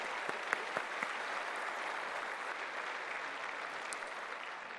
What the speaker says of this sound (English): I think you deserve wonderful applause from everyone